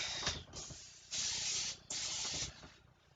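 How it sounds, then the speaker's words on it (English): Original cooking spray sprayed into a pan on the stove, several short hissing bursts, two longer sprays among shorter ones, close and clear with no talk. "This is just original cooking spray, and heating up the pan to about 4."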